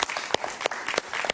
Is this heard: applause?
yes